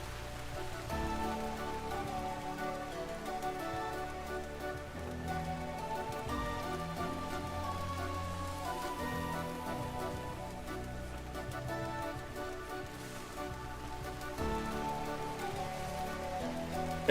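Steady rain falling across a survival world in the game Vintage Story, a constant dense patter of drops on surfaces that stays even and continuous throughout, with no talking.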